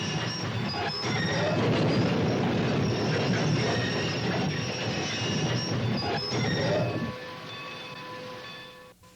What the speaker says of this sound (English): we'll have to stop for the train